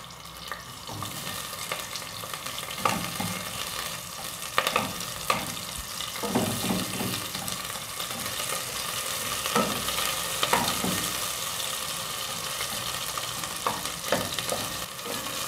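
Onion goes into hot oil in a pot on a stove, making a loud, continuous sizzle and crackle that stays close and steady, with occasional scraping stirs.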